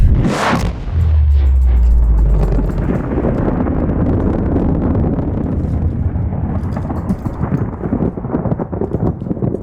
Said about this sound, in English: And then here we have the Aurora, and then explode ship.